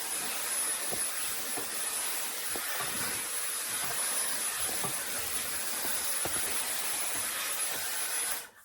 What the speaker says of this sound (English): I'm going to give my hair an overall dry, removing some of the moisture, getting it ready to style.